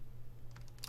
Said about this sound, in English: Keyboard doesn't want to work.